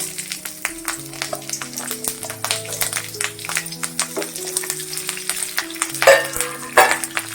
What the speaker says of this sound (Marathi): आपलं तेल गरम झालंय मी मिरच्या घालते